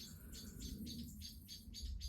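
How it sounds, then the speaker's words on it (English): Small birds chirping repeatedly in quick bursts at dusk in the Sunken Lane at Beaumont Hamel, Somme, faint and distant over a steady low outdoor rumble. "You can hear the birds again."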